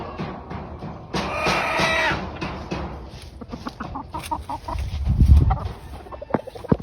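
A white Thompson gamecock stag, newly harvested, clucks and calls in short bursts, one louder run of calls early, then scattered softer sounds and a low thump near the end.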